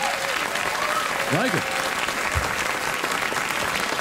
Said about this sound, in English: I hate that the audience applauded like that was a bit.